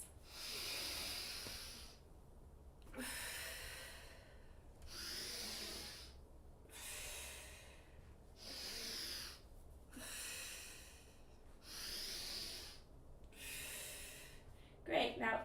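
Slow, deep breaths during a vinyasa yoga flow, about seven long airy inhale-exhale cycles spaced evenly with short pauses between, close and soft, without talking.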